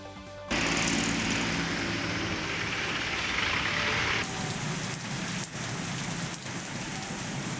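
Rain falls at night over Chennai's Nungambakkam area, a loud, steady wash that starts abruptly after a brief quieter moment, then softens slightly partway through while continuing as a close, even downpour.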